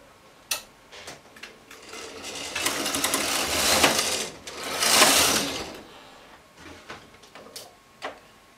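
A domestic knitting machine knitting rows, its carriage sliding across with a rising and falling mechanical whir and rattling clicks, preceded and followed by scattered ticks of needles and handling, with no talking.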